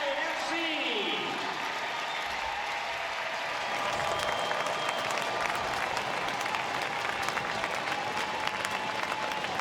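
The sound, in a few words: stadium crowd cheering Seattle Reign FC at Memorial Stadium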